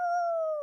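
A human voice imitates the bark of a Plott hound, a single sustained, steady howl-like tone with a slight downward slide at the end, close and loud.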